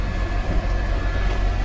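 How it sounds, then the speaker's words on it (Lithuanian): A train stands briefly at Jelgava station in Latvia on the Vilnius to Riga route, a loud, steady low rumble and idling drone filling the space without speech. "traukinys stovi tik porą minučių"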